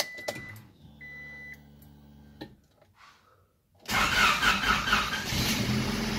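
A car engine cranks briefly after a few quiet knocks and clicks, then catches and runs loudly with uneven revving through the final seconds, close by.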